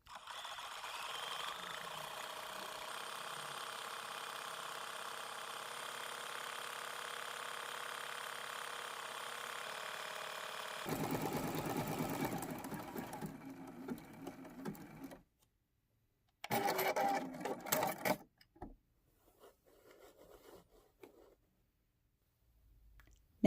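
A sewing machine runs a satin stitch on fusible applique for a quilt block, humming steadily for about fifteen seconds, then stopping. A short second burst of stitching follows, and faint clicks trail off after it.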